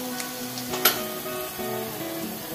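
Spices with a little fennel sautéing in hot oil for channa masala, a soft steady sizzle with a brief louder stir or clatter near the start, no voices.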